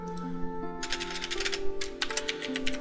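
A computer keyboard tapped in rapid clusters of crisp clicks while entering a character name in a game, close and bright, over soft tonal game music.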